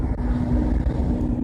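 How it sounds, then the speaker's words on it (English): A tractor-trailer cab with no trailer drives past at speed, giving a loud, steady low engine roar with wind buffeting on the microphone. "here comes a tractor trailer with no trailer"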